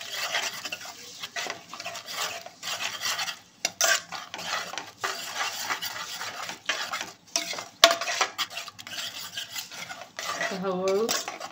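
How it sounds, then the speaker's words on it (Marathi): A spoon scrapes and stirs a spice masala with whisked yogurt in a metal pressure cooker. The clinks and scrapes repeat steadily and sit close, with a faint sizzle underneath and no speech. "छान असे मसाल्याच्यात फ्राय करून घ्यायचे"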